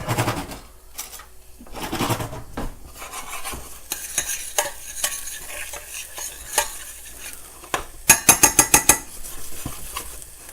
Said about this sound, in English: We're going to need to cook the garlic a little bit.